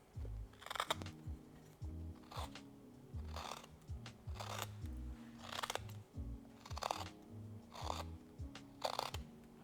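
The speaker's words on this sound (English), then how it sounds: "going to hollow out this inside of the spoon here" Gouge carving out the hollow of a wooden spoon, with a series of short, crisp wood-cutting scrapes and snicks in an irregular rhythm, close and fairly quiet with no talking.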